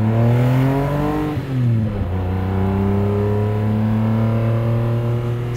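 A 1974 Datsun Fairlady 260Z with a stroked engine revving hard, its loud, smooth engine tone rising in pitch, briefly dipping on a shift, then climbing and holding steady at high revs, heard from inside the car.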